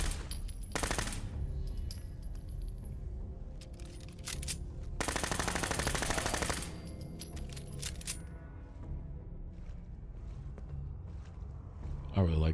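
Pistol gunfire in the video game Fallout 4, Survival Mode on PS4: a few sharp bursts of rapid shots stand out against quieter game ambience, with a long loud volley in the middle and light clicks between.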